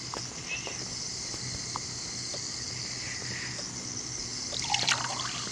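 Quiet continuous trickling water from washing dishes in a video game, with faint drips and a soft electronic hum underneath, a brief splashier patch near the end.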